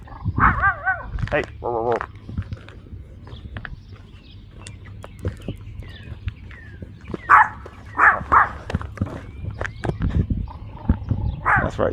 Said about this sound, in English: Attack dog is coming to get me.